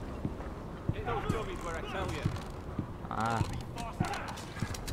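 Horse hooves clip-clop in a Game of Thrones video game, a few sharp evenly spaced knocks under a voice and other game sounds.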